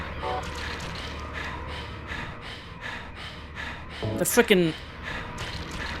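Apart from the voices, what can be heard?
panting creature in Silent Hill 3 video game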